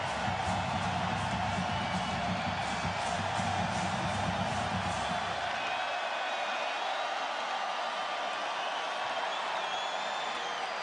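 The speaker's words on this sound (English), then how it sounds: "the crowd's starting to get into it" Football stadium crowd at a Tulane versus Memphis college game, a broad sustained roar of cheering and noise that swells steadily across the stands, dense and continuous from start to finish.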